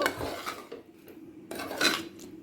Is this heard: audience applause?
no